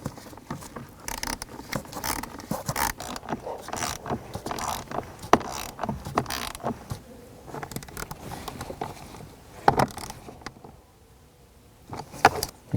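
A ratchet tightens the blower motor mounting bolts on a 1997-2004 Dodge Dakota, with rapid close clicking bursts and small metallic rattles in quick uneven runs, then a brief pause and a few final clicks.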